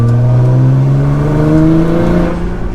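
An R35 Nissan GT-R accelerates at half throttle in Sport Plus mode. The engine note is loud and close, a steady, smooth drone that climbs gradually in pitch, with no talking.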